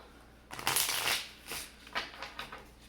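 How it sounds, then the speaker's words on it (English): A deck of playing cards being shuffled by hand, close and quiet, with a quick riffle burst followed by several shorter flutters and snaps of the cards. "make sure your deck of cards is well shuffled"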